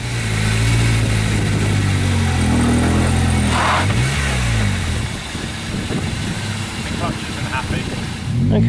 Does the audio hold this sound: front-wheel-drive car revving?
yes